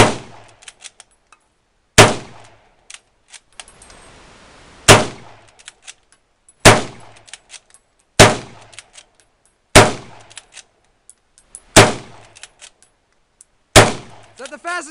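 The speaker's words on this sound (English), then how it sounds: "We got the 1942 Lee Enfield out again." A 1942 Lee Enfield rifle fired at an outdoor range, with seven loud, sharp shots spaced about two seconds apart and a ringing tail after each one. Faint talk and small clicks fill the gaps.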